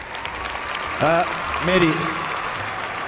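Steady crowd applause fills the hall at a Multiknik award ceremony, with a brief voice speaking over the clapping partway through.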